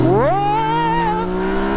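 A Yamaha MT-09 motorcycle engine revs up close. Its pitch climbs sharply, then holds at a high, steady whine for about a second before easing slightly, with no talking over it.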